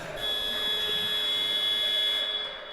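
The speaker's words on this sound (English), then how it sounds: "That was just before the buzzer, so that was actually super clutch, because otherwise the game would have been over." A game-ending buzzer at a Baltic League open-division match between Baltic Dragons and Ventspils FK sounds as one steady, high electronic tone held for about two and a half seconds, with faint hum beneath and no talk.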